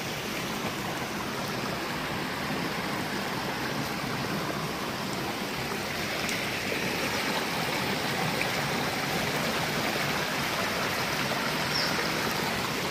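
A low-running forest stream in Himachal gives a constant, even rush of flowing water that stays steady throughout, with no voices.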